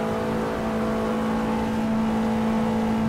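In the Assetto Corsa racing game, a Porsche 911 Turbo drones at very high speed near its rev limiter on street tyres, a steady, sustained tonal engine whine heard alone without any talk.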